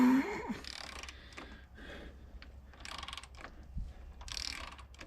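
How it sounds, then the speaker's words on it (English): Engine crank wound by hand to turn the cam and piston mechanism, close ratcheting, gear-like clicks and scraping in repeated strokes, fairly quiet. "So now we wind it, listen out for piston noises."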